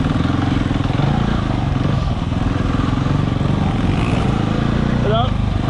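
Close, loud dirt bike engine chugging and pulsing steadily as the rider slips the clutch on enduro terrain, with a voice talking over it.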